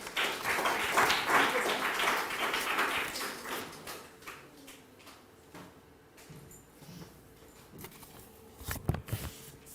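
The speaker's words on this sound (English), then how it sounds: "let us give a clap to them." An audience at an academic seminar claps in a brief round that starts fairly full and thins out into scattered taps, with some room noise at the end.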